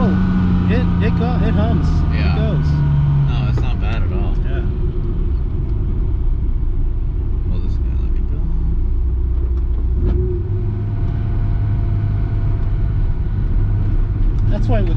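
A vintage Nissan Skyline cruising on the road gives a low, steady engine hum and rumble inside the cabin that shifts pitch as it pulls along, with people talking over it.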